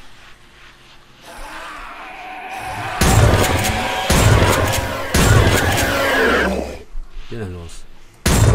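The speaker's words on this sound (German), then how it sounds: "Zwei meisterhafte Schüsse von mir." Loud bursts of gunfire in the game 7 Days to Die come in several heavy volleys, with a voice speaking briefly between them.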